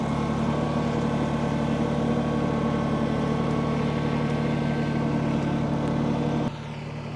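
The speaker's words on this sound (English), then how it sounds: "That's pretty impressive for a 25 horsepower tractor." A 25 horsepower tractor engine runs with a steady droning hum at close range, holding constant before dropping abruptly in level near the end, with no speech.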